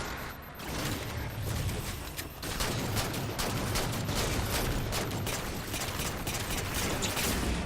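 Halo 4 combat rages in a dense, continuous barrage of gunfire and blasts, loud and close, with a brief lull before the noise surges back in.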